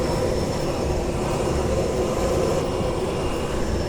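A crop-spraying airplane flying very low over a potato field, its engine a loud, continuous drone that stays steady and close throughout.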